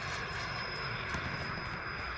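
A VTOL aircraft in the Call of Duty Modern Warfare video game gives off a steady, loud engine drone with a constant high whine, unbroken across the short stretch and without talk.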